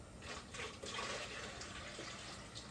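Water pours and splashes into a 10 gallon aquarium, a close, steady gushing with bubbling surges and no voices.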